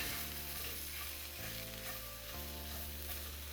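Ground beef frying and sizzling in a pan as it is broken up, a steady close crackle with brief stirring shifts in tone.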